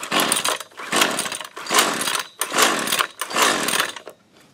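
A Husqvarna 128CD string trimmer's small two-stroke engine, just repaired after a fuel line fix, is pulled over repeatedly in bursts of rough, revving sound, close and loud, with brief gaps between pulls.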